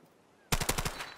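Machine gun fire in a video game cage match: after a quiet half second, a sudden close, loud burst of rapid shots rattles off in quick succession.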